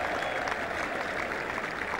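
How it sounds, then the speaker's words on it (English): Cricket crowd at The Oval during an England v Australia Test match, a steady wash of applause and cheering from many spectators, continuous and fairly loud throughout. "And now a cheer of relief among the crowd."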